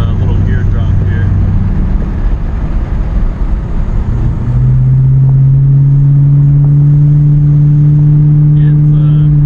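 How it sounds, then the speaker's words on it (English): A Ford Thunderbird engine drops a gear while driving at about 55 mph, the steady road rumble giving way halfway through to a louder, higher held drone as the revs rise, heard close inside the car. "We're actually going 55 mile an hour, so we'll do a little gear drop here."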